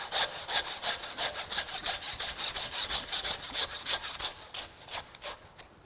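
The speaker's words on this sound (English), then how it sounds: "Then with the handsaw, slice through the vertebrae between that 4th and" Handsaw cutting through beef vertebrae between the 4th and 5th ribs of a beef chuck, a steady run of about twenty rasping back-and-forth strokes, close and even in rhythm, fading slightly at the end.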